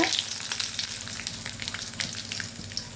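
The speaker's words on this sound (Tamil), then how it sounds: "எண்ணெய் காஞ்ச உடனே கடுகு உளுத்த பருப்பு போட்டுக்குங்க" Mustard seeds and urad dal fry in hot oil, a close, crackly sizzle with scattered tiny pops running steadily for a few seconds.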